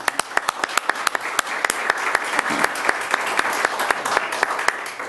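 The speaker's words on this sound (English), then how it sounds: "I think that's worthy of a round of applause." Applause at a police swearing-in ceremony: a moderate crowd claps steadily for about five seconds, with sharp individual claps standing out over a dense, even patter.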